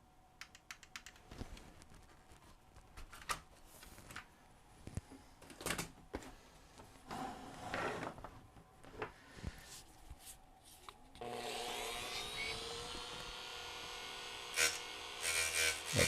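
A small plastic power button part from a Sony SL-HF400 Super Beta HiFi VCR being ground down, scratchy rasping bursts and clicks that give way to a steady whirring grind, close and fairly quiet.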